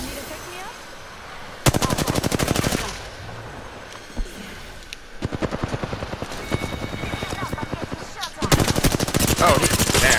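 Submachine gun fire in the video game Apex Legends comes as rapid automatic bursts, loud and close, with quieter pauses and scattered shots between them.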